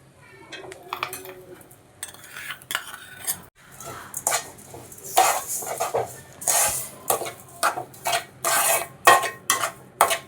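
Metal spoon stirring and scraping semolina with sugar in a pot while making kesari bath, irregular clinks and scrapes that grow louder and more rhythmic toward the end, with no talk over it.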